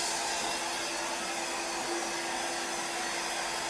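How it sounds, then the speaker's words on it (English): A hair dryer blows with a steady, even whoosh and a faint motor hum, running without pause. "So I'm taking my hairdryer here"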